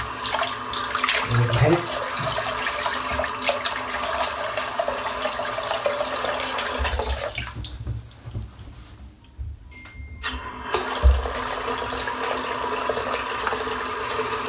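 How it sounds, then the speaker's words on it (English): Tap water runs steadily into a shaving bowl for lather, a close, hissing splash that pauses briefly midway before resuming, with someone speaking over it. "So got the water in the bowl,"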